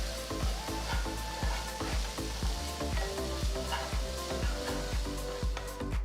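Fresh curry leaves, sliced onion and salt sizzle in oil in a pan while a spoon stirs them, with steady frying hiss and a regular run of scraping clicks from start to finish, close and fairly loud, no talk.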